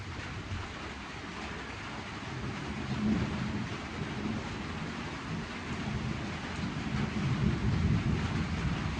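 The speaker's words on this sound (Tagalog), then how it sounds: "Talagang panay ng bagyo." Steady rain from a thunderstorm in Palawan, a dense continuous roar with low rumbling that swells gradually, no voices.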